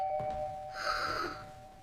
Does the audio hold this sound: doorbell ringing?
yes